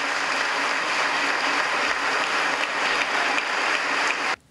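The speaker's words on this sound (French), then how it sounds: "je vais leur demander un applaudissement pour toi" Sustained audience applause from a large crowd at a Spanish-related broadcast, a dense wash of clapping that holds steady before cutting off abruptly at the end.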